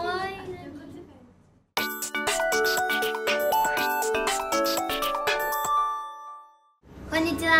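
A bright ding-dong chime plays a long, loud run of ringing electronic notes, with a voice briefly before and after it.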